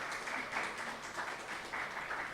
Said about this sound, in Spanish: vamos a despedir a Pablo con un fuerte aplauso